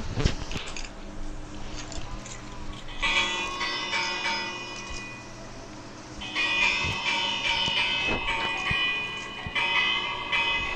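A bell pressed in the building game Crafting and Building rings out in bright, sustained metallic tones that swell twice over a busy ambient game background, with no talking.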